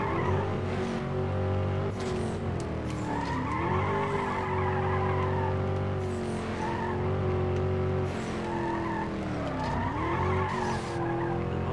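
A car in the video game Need for Speed Undercover brakes and skids, tires squealing in long wavering tones over a steady droning engine, the screech repeating in several sustained bursts, loud and continuous with no voices.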